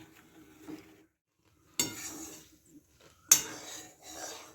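Milk boiling hard in a pot for Bengali mishti doi, stirred with a metal utensil. Two sharp clanks of metal on the pot stand out, followed by brief stirring scrapes between quieter gaps.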